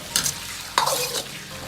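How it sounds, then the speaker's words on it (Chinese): Chives tossed into a wok of braised lamb blood and stir-fried quickly: two sharp scraping clatters of a spatula against the wok over a steady sizzle, close and alone. "最后倒入韭菜，快速的翻炒几下"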